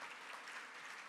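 A brief, faint burst of audience applause at a food and agriculture conference dialogue, a soft uniform wash of clapping heard from a distance.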